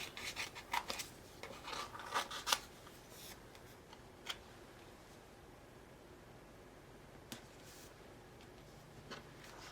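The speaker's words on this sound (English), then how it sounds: "I'm going to take my scissors out and I'm just going to cut all of these out." Scissors snip through card stock to cut out pieces, a quick cluster of crisp rasping cuts in the first few seconds, then a quieter stretch with a couple of isolated snips, close and fairly faint.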